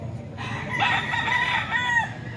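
A Sweater breed gamecock rooster, a banded fighting bird in San Jose del Monte, Bulacan, crows once, close and loud, in a drawn-out call lasting over a second over faint background noise.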